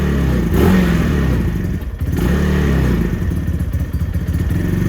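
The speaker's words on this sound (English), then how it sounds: "And let's fire it up. That's gonna run a little high on the RPM just because it's warming up." A Venom X22R Max 250cc motorcycle starts up and settles into a fast, high warm-up idle, a loud, close, throbbing engine note with a brief dip in the middle and no talk over it.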